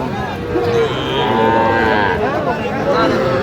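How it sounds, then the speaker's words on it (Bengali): Young bull calves moo loudly and up close at the Aftabganj cattle market, one drawn-out bellowing call filling the clip, with market noise around it. "এগুলো ষাঁড় বাচ্চা।"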